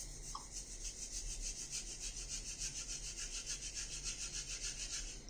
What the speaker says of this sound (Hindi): और जो ब्रश है उसको थोड़ा गीला रखेंगे और अब लैदरिंग करते हैं।